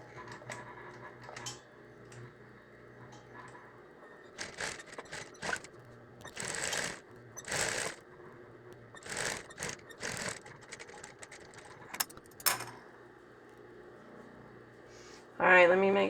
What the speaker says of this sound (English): Whoops, I ran off. Let me back stitch there.